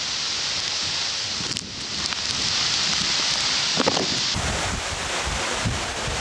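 Seljalandsfoss waterfall in Iceland, heard from close by as a dense, steady roar of falling water and blowing spray, loud and unbroken, with gusty wind buffeting and no speech.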